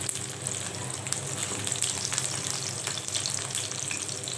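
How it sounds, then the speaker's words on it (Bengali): Fish kofta made from foli fish frying in a pan over medium heat, a steady dense sizzle and crackle throughout with occasional sharper pops as the pieces are turned, close and continuous with no talking. "এই উল্টিয়ে পাল্টিয়ে ভালোভাবে ভেজে নিব।"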